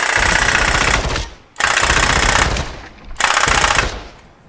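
A fully automatic rifle in a VR game fires three loud, rapid bursts, each about a second long and ending in a decaying tail, with brief gaps between bursts.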